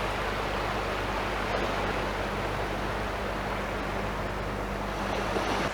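Steady wash of sea waves on Walton Beach near the pier in misty weather, a continuous broadband surf roar with faint low hum and light wind, no voices.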